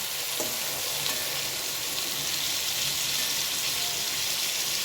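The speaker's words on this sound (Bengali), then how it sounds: "তো আমি যেই মশলাটা করে রেখেছি, এখানে টমেটো আছে, রসুন আছে, কাঁচা লঙ্কা আছে, যেটা আমি করে রেখেছি সেটা আমি এখন দিয়ে কষাবো" A masala of tomato, garlic and green chilli fries steadily in hot oil, a dense, continuous sizzle that stays loud and even throughout, with no talking.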